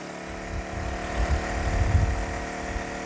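Champion 2500W dual fuel generator running on propane with about 1,500 watts of heater load, giving a steady low engine drone that swells slightly in the middle, with no talking over it.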